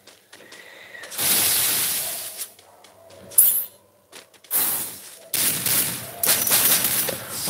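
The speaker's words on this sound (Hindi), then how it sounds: "तीन गोली वाली गोली थी इसके पास, शॉटगन थी" Shotgun blasts ring out in Free Fire Max, several sharp bursts of gunfire in quick clusters separated by brief pauses, loud and close.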